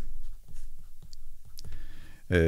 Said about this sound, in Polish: pisać odręcznie